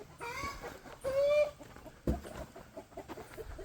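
Chickens in a coop cluck and squawk in agitation, two loud rising squawks followed by a flurry of close, nervous clucking.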